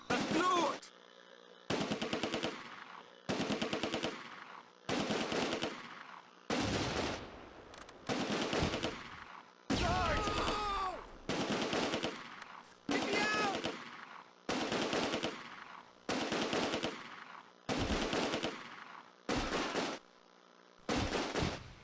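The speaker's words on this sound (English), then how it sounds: "Second platoon have the enemy Schützen squad under frontal and flanking fire." Repeated bursts of small-arms and machine-gun fire in the World War II video game Close Combat A Bridge Too Far, arriving in steady, evenly spaced volleys for the whole stretch, loud and dense.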